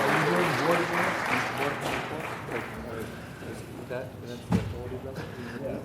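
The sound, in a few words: round of applause at council meeting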